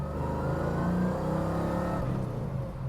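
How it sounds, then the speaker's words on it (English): A 1970 Chevrolet Chevelle SS with the LS6 engine runs steadily close by, its deep exhaust burbling and swelling into a rev, then easing back slightly toward the end, with no talking over it. "Let's hear this motor, hear the exhaust."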